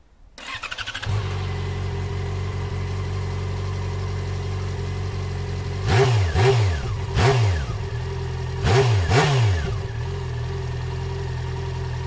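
Yamaha XJ6 motorcycle engine cranks and catches, settles into a steady, close idle, then takes four quick throttle blips in two pairs before dropping back to idle.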